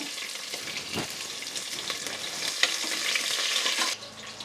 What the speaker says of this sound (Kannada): ಸ್ವಲ್ಪ ಈರುಳ್ಳಿ ಒಗ್ಗರಣೆಗೆ ಹಾಕ್ತಾಯಿದ್ದೀನಿ